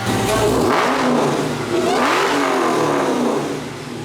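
A drag race car with a new race engine and a Whipple supercharger revs hard and close, a loud roaring rise that eases, climbs again and then tapers off near the end.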